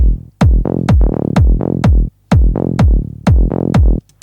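A punchy tech house synth bassline pumps in a steady rhythm, sidechained so each note ducks sharply then swells back, with brief gaps between phrases.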